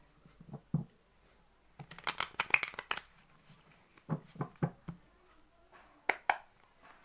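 Tarot cards are shuffled and drawn by hand close up, in quick papery riffles and soft flicks, with a dense burst of shuffling in the middle and scattered taps around it.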